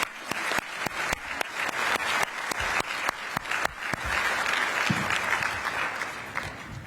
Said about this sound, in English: one big, huge round of applause for Pamela and Connie